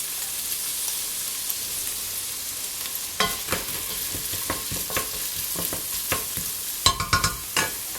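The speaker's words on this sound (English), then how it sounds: "Here the butter is melted, so I'm going to reduce the fire to low and add the spring onions." Spring onions go into melted butter over a low flame. A gentle sizzle starts, then turns into clattering, scraping stirs with sharp bursts of frying, close and without speech.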